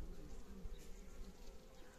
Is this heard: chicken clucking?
no